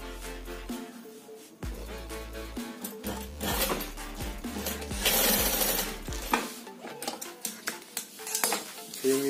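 A sewing machine stitches a fabric shopping bag in short mechanical runs, whirring bursts stopping and restarting close by, alone without talk.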